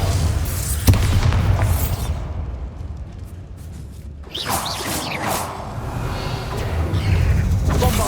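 A Bombarda blasting spell goes off in Hogwarts Legacy, a loud booming explosion with a rushing whoosh and rumbling debris, then a second burst of blasts near the end.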